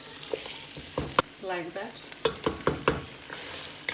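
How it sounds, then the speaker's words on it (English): Spices frying for Punjabi mutton masala curry, with sharp scraping stirs repeating through the clip over a steady sizzle, close up, and a brief voice speaking in the middle. "So I'm frying all the spices"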